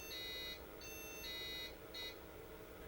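An IBM 5162 AT motherboard sounding its POST error beep code: a repeating pattern of high-low electronic tones followed by a short beep, clear and quiet with no talk.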